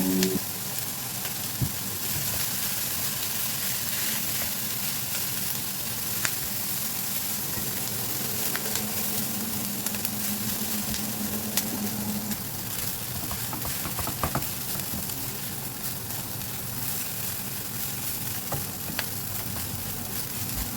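Cooked rice sizzles and crackles loudly in a hot wok as it is stir-fried for Indonesian fried rice, a steady dense frying hiss with occasional scraping of the spatula, continuous and close.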